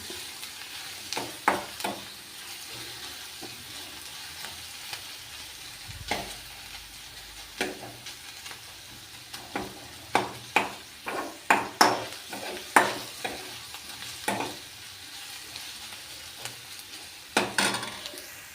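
Tadka for dhuli moong dal sizzles in a pan, with frying hiss broken by frequent sharp clinks and scrapes of a spoon stirring against metal, close by and with no talking.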